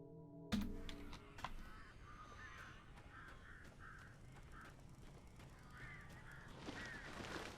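Crows caw repeatedly in the Alan Wake video game, a run of harsh calls spaced through the scene after a sharp opening hit, with a rising burst of noise near the end.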